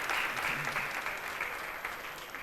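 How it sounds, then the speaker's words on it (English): A crowd at a school cooking competition final applauds a judge, a dense, steady wash of clapping that carries through the whole short stretch. "Let's give her a big round of applause."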